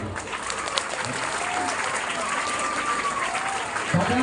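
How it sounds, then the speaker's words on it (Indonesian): A crowd of schoolchildren applauds in a sustained round of clapping, the claps mixed with crowd noise and a voice talking over them throughout. "Tepuk tangan dulu anak-anak"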